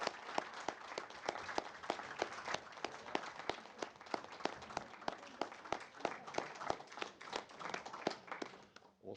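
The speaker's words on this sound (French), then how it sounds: "je crois qu'on peut les applaudir collectivement." Scattered, distinct hand claps from a municipal council meeting sound fairly close and steady, with no voices, for about nine seconds.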